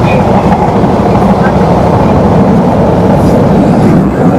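Chitra Express running over the new double-gauge rail line on the Jamuna bridge at speed, a dense, loud, continuous roar of wheels and rails throughout, close and unbroken.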